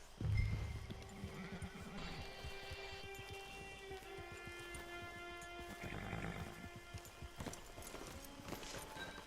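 Horse hooves clip-clop in a steady, even rhythm while the animal neighs loudly near the start and again later, close and clear over a soft background.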